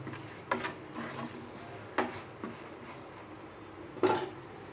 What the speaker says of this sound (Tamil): இந்த கருவேப்பிலை கொஞ்சம் போட்டு இந்த பேனில் இருக்க ஹீட்டுக்கே இதை கொஞ்சம் நல்லா கிண்டி விடுவோம்